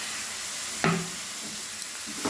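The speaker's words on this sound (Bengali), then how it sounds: "আবারও 2-3 মিনিট ভালোভাবে একটু কষে নেব।" Green chilli, cashew and poppy seed paste stir-fried in a pan, giving a steady sizzle with a couple of sharp scraping stirs, close and alone.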